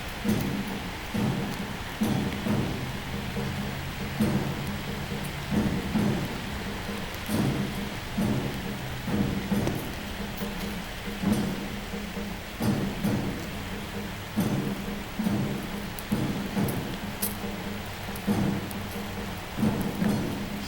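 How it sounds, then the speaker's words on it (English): Heavy rain pours down steadily, with rhythmic drumming hits on a nearby surface and a dense hiss of water throughout. "we're in a nice downpour"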